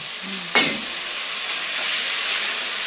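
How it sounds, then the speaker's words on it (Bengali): Cumin and turmeric spice paste frying in a pan with slit green chilies for a hilsa and eggplant cumin curry, a steady close sizzle that jumps into a brief loud hiss when water is poured in, then continues bubbling. "জল দিয়ে দিলাম, মশলাটা ভাজা ভাজা"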